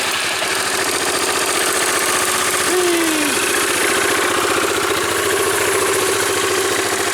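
A 2005 Yamaha Majesty scooter on its center stand starts and settles into a loud, steady idle, a continuous close-up engine drone with a brief rising whir partway through as it catches.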